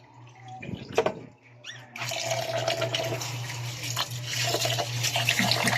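Tap water runs steadily into a pot or sink while rice is rinsed for cooking, a continuous close splashing flow that starts after a few brief handling clatters.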